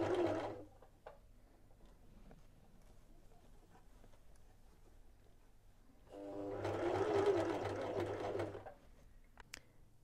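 A sewing machine stitches along a shirt collar, 2 mm from the fold, using a blind hem guide: a short whirring burst at the start, then a quiet pause, then a longer steady run of several seconds before stopping.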